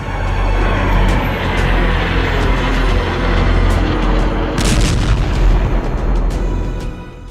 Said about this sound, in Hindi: अमेरिकी सेना ने ईरान समर्थित कताइब हिजबुल्लाह पर भीषण हवाई हमले किए थे।